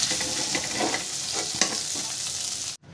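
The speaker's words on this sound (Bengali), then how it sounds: "মাছটা এবার আমি ভালো করে একটু ভেজে নেব।" Fish coated with turmeric frying in hot oil in a pan gives a loud, steady sizzle with faint crackles and stirring clicks. It runs without pause and cuts off abruptly just before the end.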